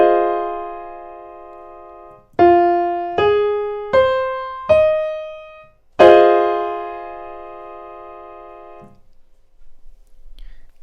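A keyboard seventh chord with lowered 3rd and 7th, its notes struck one after another in four rising hits, then all sounded together as a ringing chord that slowly decays, close and clear.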